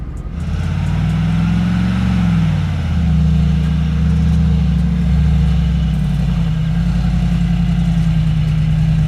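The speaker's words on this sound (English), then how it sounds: "the 2021 Mercedes G63 with a 4-liter turbocharged gasoline V8" A 2021 Mercedes G63 with a 4-liter turbocharged gasoline V8 climbs an off-road hill in low range, its engine a loud, close, continuous low drone that rises and dips slightly in pitch throughout, with no voices.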